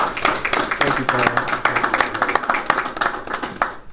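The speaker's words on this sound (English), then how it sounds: "Please give him a warm round of applause." An audience at a Georgia Power donation event for the Atlanta Police Foundation claps in warm applause, with a dense patter of hands close by and voices mixed in.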